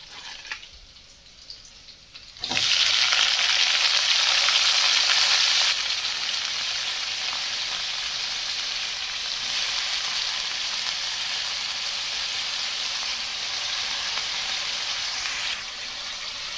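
Shredded cabbage and green chillies frying in a pan, a steady broadband sizzle that jumps suddenly louder as the cabbage goes in, then holds a continuous hiss, close and alone with no voices.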